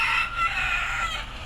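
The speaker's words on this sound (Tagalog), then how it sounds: "May manok." A rooster crows once in a single drawn-out call, fairly close and clear with no talk over it.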